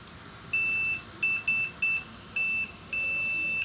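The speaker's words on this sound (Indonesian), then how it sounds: "sekarang kita pindah ke buzzer." An analog multimeter's continuity buzzer sounds in six clear, steady high-pitched beeps of uneven length, short ones and longer held tones, loud over a quiet hiss.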